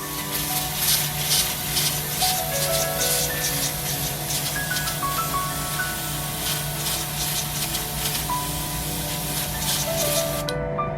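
An airbrush sprays paint over a stencil in one steady, loud, close hiss that runs unbroken for several seconds and cuts off abruptly at the end, with no voices.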